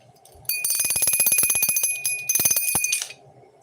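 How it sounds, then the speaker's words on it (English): A bicycle bell rings in two bright, rapid trilling bursts, loud and close, with a short gap between them and quiet surroundings before and after. "Oh, you guys ring the bell."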